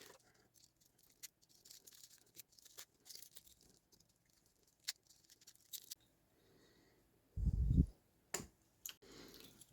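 Protective plastic film is peeled and picked off a new luxury-style watch with a jubilee bracelet, making scattered small crinkles, clicks and ticks close by, with one louder rustling burst near the end.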